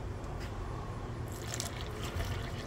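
Water is poured into a thick Alfredo sauce in a pan, a soft continuous trickle and splash that brightens briefly midway, close and unaccompanied by talk.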